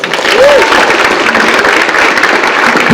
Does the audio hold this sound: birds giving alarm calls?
no